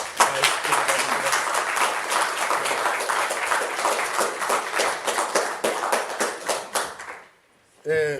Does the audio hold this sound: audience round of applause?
yes